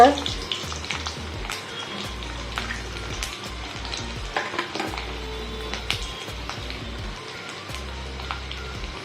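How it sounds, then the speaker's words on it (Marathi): Garlic cloves and a piece of ginger crackle and sizzle steadily in hot oil with bloomed cumin seeds, a close, continuous frying hiss with occasional stirring taps throughout. "जिरं फुललं का मग त्याच्यामध्ये आपण दहा ते बारा लसणाच्या पाकळ्या टाकायच्या आहेत"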